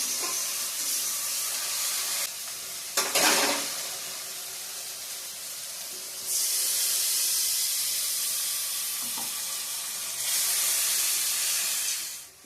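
Onion, garlic, green chili and ginger sauté together in a pan, producing a loud, hissing sizzle that swells and fades in long bursts, with a sharp clatter near the start. No one speaks over it.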